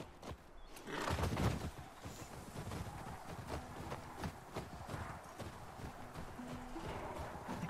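A horse clip-clops along a creek trail in The Last of Us Part 2. The hoofbeats are faint and steady, mixed with soft outdoor ambience and the creak of riding gear.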